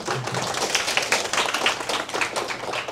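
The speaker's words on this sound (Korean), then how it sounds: "큰 박수 부탁드리겠습니다." A lecture audience claps to welcome a patent attorney to the stage, a dense, steady patter of many hands lasting the whole stretch with no talk over it.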